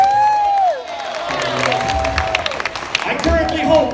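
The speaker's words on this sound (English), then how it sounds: "I'll take a round of applause for that." An audience at a bubble circus show breaks into a round of applause, with clapping, cheering and whoops from the crowd, including children's shouts and a voice rising over the noise.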